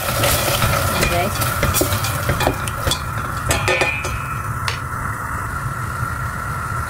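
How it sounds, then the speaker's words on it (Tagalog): Instant tom yum paste sautés in a hot pan, a loud continuous sizzle with repeated scraping and stirring clinks from a utensil against the metal, close up and without talk. "igigisa lang natin siya konti"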